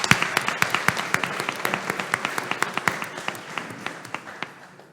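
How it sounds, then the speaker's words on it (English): An audience at a commission meeting claps for a principal, a burst of crisp rhythmic applause that starts strong and gradually thins out and fades. "let's give him a round of applause for being the principal of the year also"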